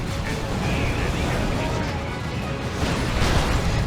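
Missile blasts from a Cyclone missile launcher in the Warhammer 40,000 strategy game Dawn of War II, a dense, continuous roar of explosions and rumbling impacts filling the whole stretch, loud and close, swelling slightly toward the end.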